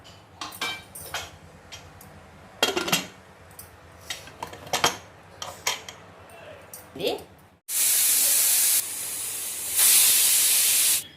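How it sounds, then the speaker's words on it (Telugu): A stovetop pressure cooker with a moong dal rasam inside starts with clinks of utensils, then lets out a loud, sustained whistling hiss of escaping steam that swells louder once more before the end. "రెండు విజిల్లు వచ్చేసింది ఇప్పుడు స్టీమ్ పోయిందేమో చూద్దాం"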